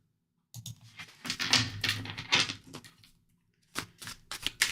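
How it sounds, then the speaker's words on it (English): A deck of reading cards is shuffled by hand in bursts of riffling and sliding, close and fairly quiet, with a short pause before a final flurry. "I'm going to shuffle real good. Real good. Get them all shuffled around there."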